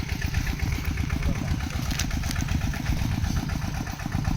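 A farm tractor engine running to pump water out of a pond, a loud, close, rapidly thumping low chug that keeps an even rhythm without pause.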